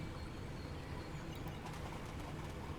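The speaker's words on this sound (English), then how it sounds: "turn off all the bird chirps and the animal cries in the background" Ambient wildlife sounds play from a statue in a Ragnarok desert oasis map mod: faint bird chirps and cooing over a steady wash of background noise, with no voices.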